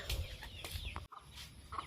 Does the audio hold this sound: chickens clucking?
yes